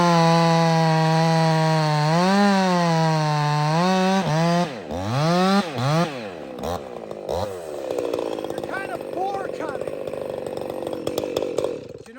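A small chainsaw bucks a big log with a loud, close engine whine. Its pitch rises and dips as it revs and bogs into the wood, then settles into a rougher, steady cutting rasp.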